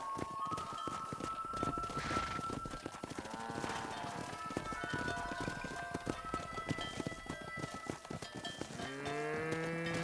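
A cattle herd in Red Dead Redemption lowing over steady clip-clopping hooves, with long moos rising repeatedly and a clear close call near the end.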